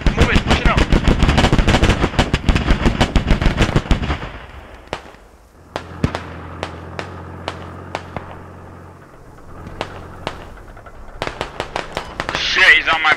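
Machine gun fire in the Squad shooter during an attack on a quarry: loud rapid bursts at first, then scattered single shots and distant rattles, with a brief renewed burst at the end and players talking over it.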